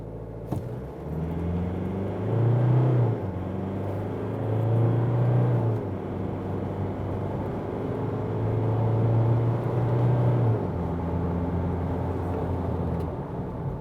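A 2022 Mazda BT-50 SP ute fitted with ARB/Old Man Emu suspension accelerates hard from standstill, its engine droning and rising through gear changes in a steady, moderately loud cabin rumble with no talk.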